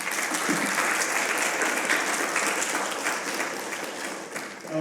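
Sustained audience applause fills a gallery room after a visiting artist's talk at a college, dense and steady throughout, with a brief voice emerging at the very end.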